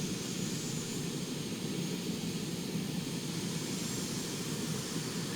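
A military aircraft in the video game Arma 3 taxis off a carrier elevator. Its engine gives a constant loud roaring hum with no break and no talk.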